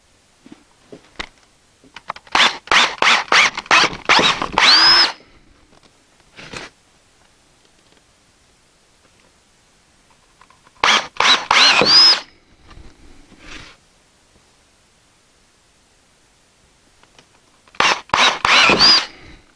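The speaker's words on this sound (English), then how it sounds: "And drill where you marked it." A drill motor with an 11/32 bit bores holes for a chicken watering system in three separate loud, close bursts with whirring and squeals, separated by quiet gaps.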